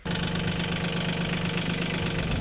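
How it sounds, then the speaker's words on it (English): A tractor engine runs steadily at close range with a constant low rumble and a droning hum, loud and unbroken throughout, with no voices over it. "So my apologies for the tractor noise"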